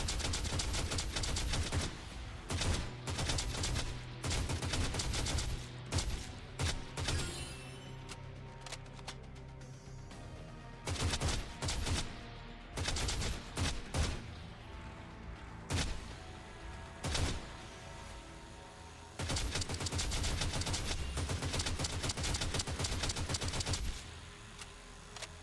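Rapid gunfire from a gacha video game, with dense bursts of automatic shots and impacts running almost continuously, pausing briefly midway and resuming loud near the end.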